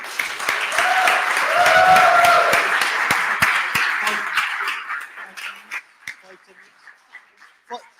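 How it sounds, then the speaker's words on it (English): Audience applause at a fusion meet-up, clapping mixed with cheers and a few whoops, loudest in the first half then thinning to scattered claps, with voices underneath. "Luke Kennedy, give him a round of applause."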